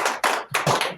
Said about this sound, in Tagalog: Palakpak to, palakpak.